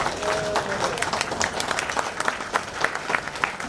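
A standing ovation at a supply chain convention: continuous crowd clapping with scattered sharp individual claps, moderately loud and sustained for nearly four seconds, with faint voices mixed in.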